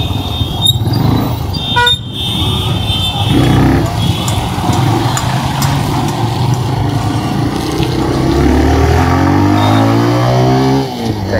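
A 2023 TVS Raider 125 BS6 motorcycle is ridden on the road, its engine humming steadily and then revving up toward the end. A short horn toot sounds early, amid traffic noise with no speech.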